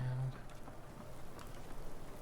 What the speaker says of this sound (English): I just love the rain